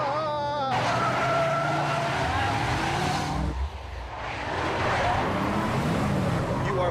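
A car driving fast, its engine and tyre noise a steady loud roar with wind rush throughout, close and continuous, with a voice briefly heard over it at the start.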